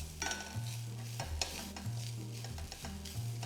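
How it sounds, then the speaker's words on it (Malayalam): Grated coconut and sliced shallots roast in oil in a pan for a Kerala duck curry, with a soft steady sizzle and scrapes of a spoon stirring every second or so; a low hum runs underneath. "തേങ്ങയുടെ ഒപ്പം നമുക്കൊരു 4-5 ചുമന്നുള്ളിയും കൂടെ അരിഞ്ഞിട്ട് മൂപ്പിച്ചെടുക്കാം"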